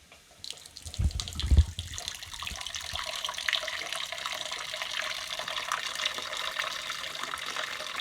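Water pours into a cooking pot in a home kitchen, a steady rushing splash that sets in after a brief clatter and runs on evenly, close and fairly loud.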